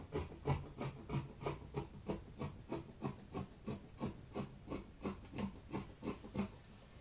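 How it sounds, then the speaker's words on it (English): Scissors cut through a paper bodice block pattern along the sewing allowance, a steady run of about twenty crisp snips in an even rhythm, close and clear with no talking. "So I will cut from the sewing allowance now."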